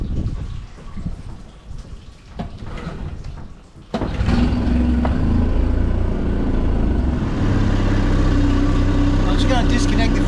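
Small aluminium boat's outboard motor starts up partway through and then runs steadily at idle, a loud continuous engine drone with some talk under it.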